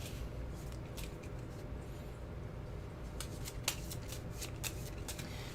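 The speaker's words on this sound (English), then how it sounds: "Let me just shuffle this encounter deck first." Cards of a Marvel Champions encounter deck are shuffled by hand, quiet soft riffling at first, then a run of crisp, rapid riffle bursts, close and alone with no talk.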